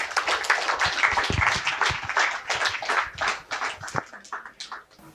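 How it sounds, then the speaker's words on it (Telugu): Dense, steady audience clapping greets a speaker, Nagendra sir, as he comes onto the stage at a meditation gathering, with crisp overlapping claps that swell and then gradually thin out toward the end. "గట్టిగా చప్పట్లతో ఆహ్వానిద్దాము"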